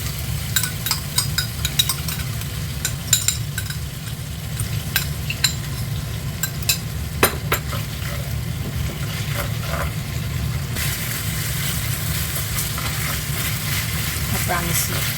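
Chili pepper and pork stir-fry in a pan with spicy miso sauce, a steady sizzle with repeated scraping and clacking of the utensil through the food, louder hiss toward the end.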